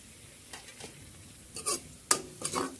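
Chicken with turmeric is stirred in a frying pan: a handful of sharp utensil scrapes against the pan come in irregular bursts over a faint background sizzle, with no voices.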